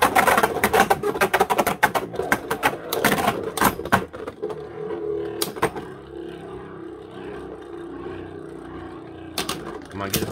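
Beyblade Burst tops launched together and clashing in a stadium, sharp rapid metallic clicks and rattling hits, loud and busy at first, then a softer steady whirring spin with occasional sharp impacts.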